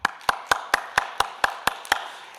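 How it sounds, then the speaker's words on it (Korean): A church congregation at a Korean early-morning worship service claps in unison, nine sharp, evenly spaced claps about a quarter second apart, fairly close and bright, with no talking over them. "우리 하나님께 영광의 박수"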